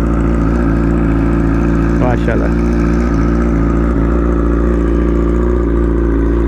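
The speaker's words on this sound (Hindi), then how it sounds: "ये है जी यामाहा R6 की आवाज, कोल्ड स्टार्ट" A Yamaha R6 sport bike with an SC Project slip-on exhaust idles steadily after a cold start, a constant engine drone that fills the recording while someone briefly speaks over it.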